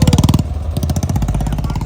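Loud motorcycle engine carrying three riders on a road during a Kawad pilgrimage ride, close and throbbing with a rapid pulsing exhaust beat that briefly drops then resumes steadily.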